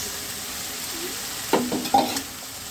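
Onions and tomato paste sauté in oil for a prawn curry, giving a soft, continuous sizzle with a couple of louder stirring scrapes near the end.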